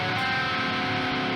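Sustained electric guitar dominant 7 shell chord ringing out at steady volume, a short, full harmonic tone with no talking over it.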